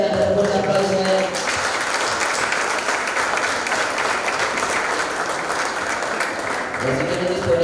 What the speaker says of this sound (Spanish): Vamos a levantar por un aplauso a él.